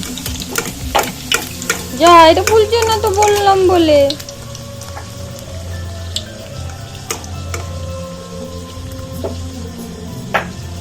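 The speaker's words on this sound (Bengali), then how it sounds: "এই যে লুচিগুলো ফুলছে দেখো কত সুন্দর ফুলকো ফুলকো লুচি" Luchi puff in hot oil with a soft, continuous bubbling sizzle. A brief warbling, voice-like sound rises over it early on, and scattered clicks and taps follow.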